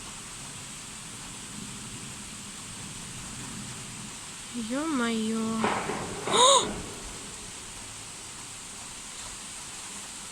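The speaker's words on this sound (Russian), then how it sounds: "Ой-ой, дождь усиливается." Heavy rain pours during a thunderstorm in Rostov-on-Don as a constant broad hiss, while a man briefly exclaims over it midway through.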